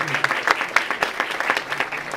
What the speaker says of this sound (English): Round of applause and